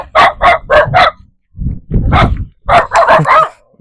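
A dog barking loudly and close by in three rapid bursts of sharp, repeated barks with short pauses between, heard alone without talk.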